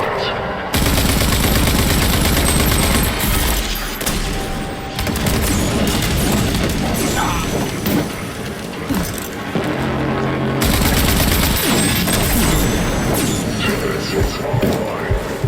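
Sustained turret and gun fire in the shooter RAGE 2, loud dense bursts of rapid shots and booming impacts over about fifteen seconds, broken by a brief lull, with a voice speaking over the barrage.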